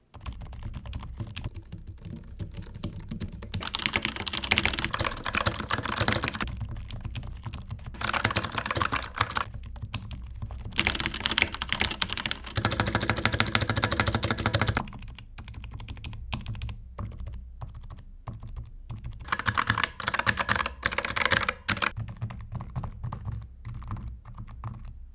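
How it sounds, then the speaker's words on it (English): Steady, fairly soft keyboard typing continues throughout, a dense patter of keystrokes close up, with brief pauses between bursts and no voices. "Here's a quick sound test of this keyboard compared to other keyboards as well."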